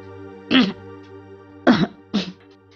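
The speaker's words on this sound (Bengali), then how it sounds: "গলা পরিষ্কার করিয়া বলিলেন" Someone clears their throat three times in short, rough bursts, close and fairly loud, over a faint steady hum.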